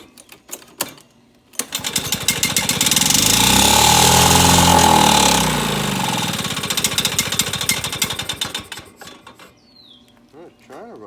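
An old Lawnboy lawn mower engine is pulled over a few times, catches and runs loud and rapid for several seconds, then sputters and fades into uneven firing.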